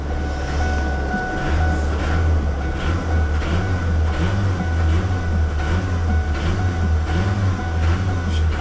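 A freshly built Danger Ranger engine runs with a loud, steady low rumble that pulses rhythmically, a continuous drone with no talk over it.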